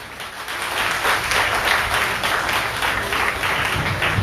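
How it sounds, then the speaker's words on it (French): Steady, loud applause from a crowd at an outdoor family celebration, dense continuous clapping that holds level for several seconds with no speech over it. "Applaudissez tout le monde"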